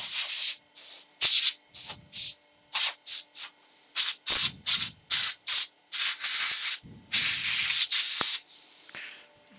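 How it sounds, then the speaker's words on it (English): A wet-turned wooden bowl sanded on the lathe, with bursts of bright, hissing abrasion that start and stop in short repeated strokes, close and loud, with no talking. "Yep, get that sanded."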